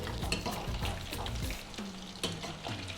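Prawns deep-frying in hot oil for prawn popcorn give a steady, close crackle and sizzle, with occasional sharper pops and stirring noises throughout, and no voices.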